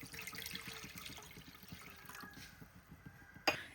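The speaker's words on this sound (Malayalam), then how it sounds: "ഇതിന് വേണ്ടിയിട്ടൊരു പാനിലേക്ക് 2 കപ്പ് വെള്ളം ഒഴിച്ചു കൊടുക്കുന്നുണ്ട്" Two cups of water poured into a pan for making rava vada, a soft trickling, splashing stream at close range with a light clink at the end.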